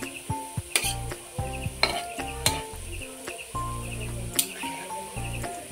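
Gaja pastries deep-fry in hot oil with a continuous sizzle, broken by occasional sharp metallic clinks and scrapes of a utensil against the pan.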